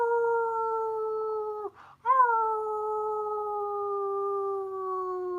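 A person's voice imitates a wolf howl in two long, sustained, steady tones broken by a brief gap, loud and close, with no other talk.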